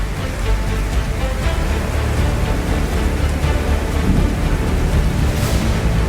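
Heavy rain pours down in a steady, dense hiss during a bicycle tour around the Kaiserstuhl, a loud continuous downpour with no voices.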